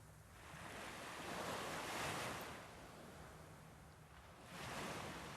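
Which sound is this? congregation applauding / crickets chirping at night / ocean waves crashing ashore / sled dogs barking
ocean waves crashing ashore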